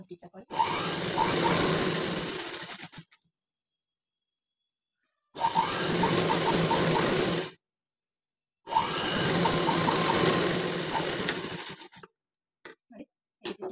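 A sewing machine stitches along a fabric patchwork edge in three close, steady bursts of a few seconds each, separated by silent pauses, followed by a few faint clicks.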